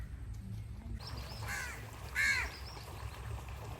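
Two or three harsh crow caws ring out at a middle distance over a low, constant background rumble, with a trickle of water faintly present, on a farm being watered after planting turmeric.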